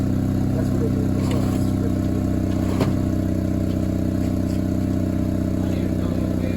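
Straight-piped exhaust on a Honda Civic idling and revving slightly, a loud, steady low drone with metallic clatter and one brief sharp blip near the middle.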